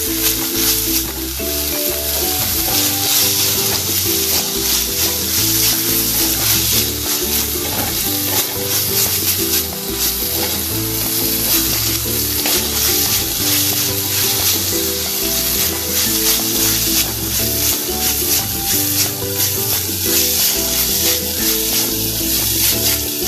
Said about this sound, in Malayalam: ഇഞ്ചി നന്നായിട്ട് മൂത്ത് തന്നെ അതുവരെ നമുക്ക് ഇളക്കണം.